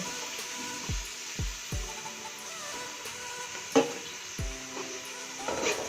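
Ghee crackles and sizzles softly in a pan while cooking matar pulao, with a quiet steady hiss broken by several sharp metallic clinks of a utensil against the pan.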